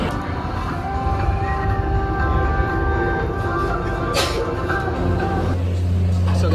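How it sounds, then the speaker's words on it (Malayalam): A metro train pulls into Vyttila station in Kochi, a steady loud rumble with hum and brake tones building near, then a low droning tone as it slows at the end. "സോ മെട്രോ കയറാൻ പോവാണ് ഗൈസ്."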